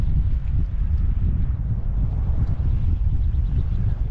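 Strong wind buffeting a fishing boat out on the water while striped bass fishing, a steady low roaring rush with continuous microphone wind noise and no clear breaks.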